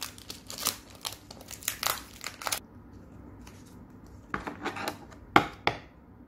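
Crinkly plastic foil wrappers of Pokemon TCG Unbroken Bonds booster packs being torn open and handled, close and crisp in bursts of rustling, a quiet pause, then more crackling.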